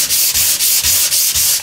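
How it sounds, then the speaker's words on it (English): A sanding block with fine sandpaper rubs back and forth across a wooden clock panel in steady strokes, about six rhythmic hissing passes, close and loud. "get the front face of that panel sanded smooth, and you can use a sanding block and some fine paper"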